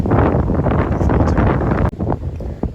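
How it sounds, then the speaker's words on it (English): Strong outdoor wind buffeting a microphone beside a Toyota Yaris Cross Hybrid, a loud continuous roar with a brief dip near the end, no one talking. "it's a bit windy and a bit horrible outside today"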